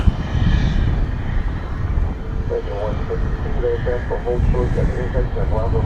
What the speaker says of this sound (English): As we see American Flight 1811, I think, about to go through this shot off to Omaha